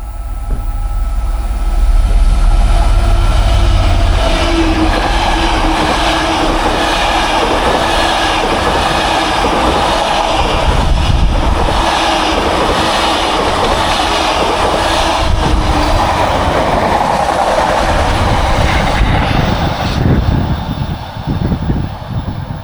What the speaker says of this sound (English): here comes a train, just heard the whistle.